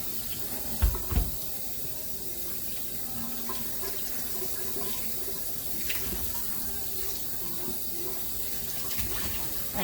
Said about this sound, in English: cold running water.